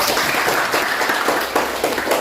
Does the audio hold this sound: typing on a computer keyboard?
no